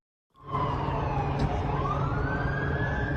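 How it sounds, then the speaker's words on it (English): A siren starts suddenly and wails loudly in Tel Aviv as police attend an overturned car, its pitch sliding down then rising again, over a dense rumble of traffic noise. "Sirens wail in Tel Aviv"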